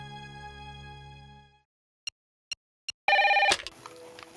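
Telephone ringing during a call to a doctor, a ringback burst followed by three short beeps and then a loud electronic ring, all close and clear with no talking, ending in a click.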